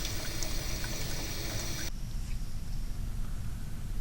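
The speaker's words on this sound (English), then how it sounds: "By carefully adjusting the kitchen faucet, we can produce a stream of water that is not only laminar, but also steady" A steady laminar stream of water runs from a kitchen faucet, giving a smooth, continuous hiss and trickle that softens partway through and carries on without interruption.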